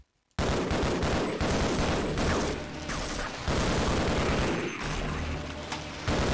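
A dense, loud burst of explosions and rapid gunfire in the game Half-Life, starting abruptly after a brief quiet and continuing as overlapping booms and shots with a faint voice underneath.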